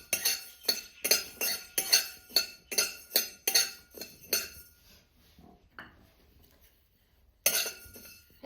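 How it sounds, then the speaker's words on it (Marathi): Coriander seeds are dry-roasted in a metal kadhai for bhajani chakli flour. About a dozen rhythmic metallic scrapes and clinks of the spatula, then a quiet pause, then one more sharp stroke. "धने कढईमध्ये टाकून घेतले लाल खरपूस होईपर्यंत दणे पण भाजून घ्यायचे"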